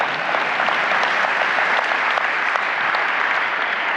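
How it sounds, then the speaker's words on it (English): Dense, steady applause from a conference audience at SAP Sapphire Orlando 2026, many hands clapping together at even loudness throughout with no talk over it. "You can clap. I think there's a couple people that liked it in the back."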